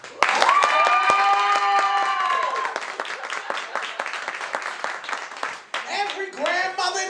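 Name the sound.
audience clapping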